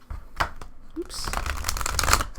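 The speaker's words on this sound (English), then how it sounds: "I'm actually just going to shuffle this really quickly." A new, stiff, unusually large tarot deck being quickly shuffled by hand, a few sharp riffles and slaps of cards followed by papery rustling, close up, with a voice briefly speaking over it.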